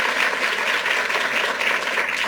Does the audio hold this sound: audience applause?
yes